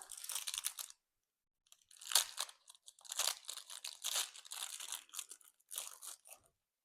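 Crackers are bitten and chewed while tasting candied pepper farmers cheese, producing loud, close crunches in several bursts separated by short silences, with no talking.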